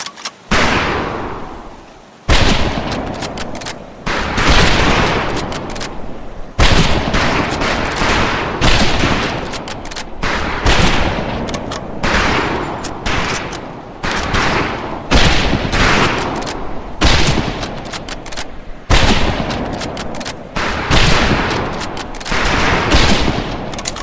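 Rifle gunfire at a firing range in Medal of Honor Pacific Assault, loud cracking shots fired in rapid overlapping volleys from several shooters, with brief gaps between bursts.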